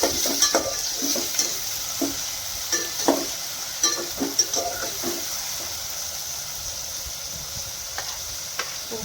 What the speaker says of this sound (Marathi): आता त्यामध्ये आडवा चिरलेला कांदा आपल्याला टाकायचा आहे मग टोमॅटोही टाकून द्यायचे आहेत दोन्हीही व्यवस्थित आपल्याला परतून घ्यायचे आहेत